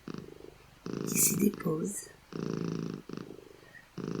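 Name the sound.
cat purring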